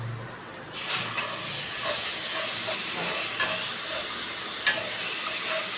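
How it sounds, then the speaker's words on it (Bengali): Ginger paste sizzles and hisses in hot oil, with occasional light clicks and scrapes of stirring close by. "আদাটা ভাজা ভাজা হয়ে গেছে"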